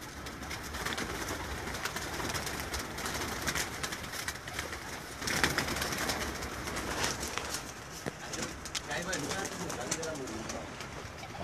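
Pigeons cooing on a rooftop used for pigeon-flying contests, a steady murmur of bird calls spread throughout with continuous outdoor background noise and some voices mixed in.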